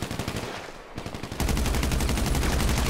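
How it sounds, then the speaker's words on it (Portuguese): Rapid automatic gunfire rattles in GTA 5 Online, close and loud, with a brief lull before a denser, sustained burst of shots. "Tá tomando tiro, galera."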